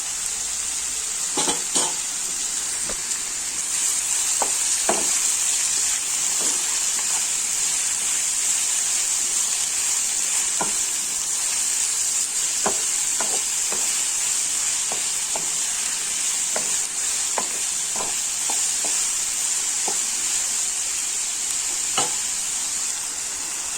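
Sliced onions with salt and turmeric sauté in a pan, a steady sizzle broken by repeated clicks and scrapes of a spatula, close and without voices.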